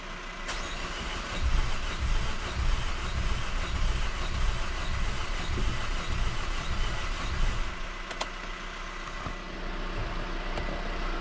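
A car engine with a new diesel particulate filter fitted cranks steadily under the starter motor for several seconds, a continuous mechanical whir and churn without catching, then eases off near the end.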